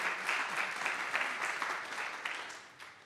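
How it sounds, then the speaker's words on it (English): Audience applause at a conference's closing session, a full burst of many hands clapping close by that runs steadily and then gradually thins out toward the end. "So maybe one more applause for yourself."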